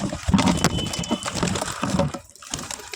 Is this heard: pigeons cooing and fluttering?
yes